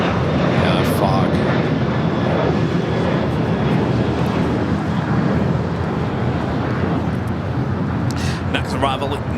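An ITA Airways Airbus A350-900 arrives at LAX, its broad, steady engine roar and rushing noise filling the clip, with wind buffeting and a voice talking over it.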